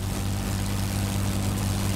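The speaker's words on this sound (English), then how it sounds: "Looks like we got a bunch of low-level planes flying in." Low-flying propeller warplanes in a World of Warplanes match give a steady, continuous engine drone with a strong low hum that holds even and close throughout, with no voices.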